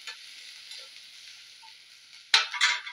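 Onion and green chilli frying in a home kitchen pan: a steady hiss of sizzling oil, then two louder bursts of stirring near the end, close and without talk.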